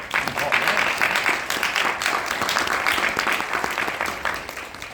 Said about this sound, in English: join me in giving a hand of applause for Professor Paul Johnson and